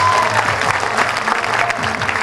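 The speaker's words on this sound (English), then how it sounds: "Can we have a big round of applause for Dr." A hall audience gives loud, sustained applause for an honoured doctor, thick continuous clapping with faint voices under it.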